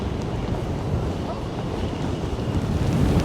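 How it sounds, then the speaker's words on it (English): Stormy wind roars and buffets the microphone on Blackpool promenade, with crashing waves churning beneath in a steady, loud, unbroken wash of noise. "That was a little look at a wild and windy Blackpool on a Tuesday"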